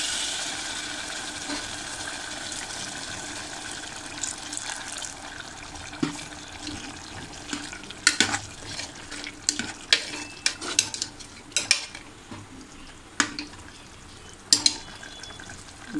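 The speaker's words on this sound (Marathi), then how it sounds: "आणि मी गरम पाणी टाकते." Hot water goes into a cooking pot of chickpea curry in a pressure cooker, a steady hiss fading as sharp scrapes and clanks of stirring break in later.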